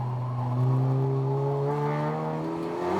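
A Honda Civic racing car on the track at Croft in a 750MC Roadsports race, the engine note rising and pulling hard as it accelerates, loud and close over a few seconds.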